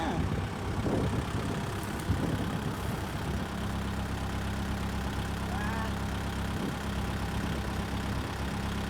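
A steady, throbbing tractor diesel engine runs continuously at moderate distance during straw baling, with faint clanks and background noise throughout.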